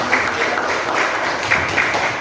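A classroom of students claps together, a short, steady burst of many hands applauding at moderate loudness.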